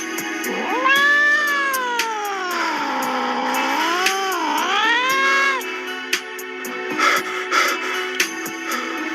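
A cat lets out a long, loud, drawn-out meow that rises and bends in pitch over several seconds, close by, followed by softer rustling and knocks.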